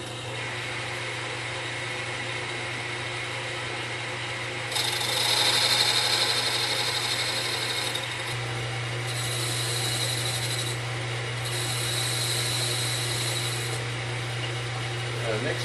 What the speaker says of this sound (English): Next view of us cutting that little piece of metal off of the wheel